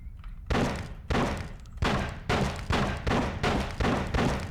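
Gunfire in a PlayStation 1 shooting game, a run of about eight heavy, punchy shots at a steady irregular rhythm, each a loud broadband thump that decays before the next, with no talking.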